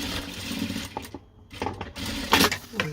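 A sewing machine stitches fabric for a small water bottle bag in short bursts, its rapid mechanical whirring close and broken by brief pauses.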